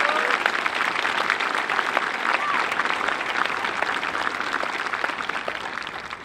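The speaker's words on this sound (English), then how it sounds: "Please join me in giving them a round of applause." Dense, continuous applause from a high school graduation audience, loud and even with scattered individual claps standing out, steady for the whole stretch.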